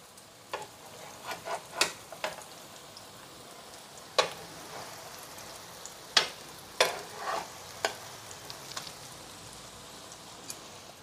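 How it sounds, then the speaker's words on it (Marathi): Soya chunk cutlets shallow frying in oil in a pan, a steady soft sizzle broken by sharp clicks and scrapes as the patties are turned, no voices. "आता दुसऱ्या साइडनी सुद्धा आपण असंच शॅलो फ्राय करून घेऊयात"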